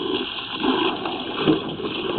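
Water from a hose gushing through a drain line, a close, steady rushing and splashing flow with small surges, no voices.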